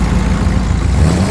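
A hot rod's engine rumbles steadily and loud with a deep, even low-end drone as it pulls away from a car show in Penrith, sustained and unbroken throughout.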